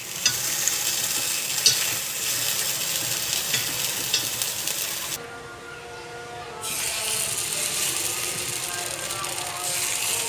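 Onions sizzle and fry in oil for kuzhi paniyaram batter, a steady close crackle with stirring sounds that drops briefly before the frying noise returns.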